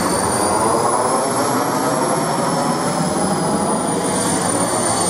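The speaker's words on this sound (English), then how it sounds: "the engine is still only at idle, producing only a small percentage of the thrust that it's actually capable of" A jet engine fitted to an RC car idles with a loud, steady turbine whine and high-pitched tones over a broad rushing roar, unbroken throughout.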